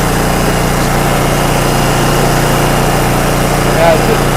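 Musclewood log splitter engine running steadily while splitting knotty hard maple, a close, loud, even low-pitched hum with no letup, and a brief voice near the end.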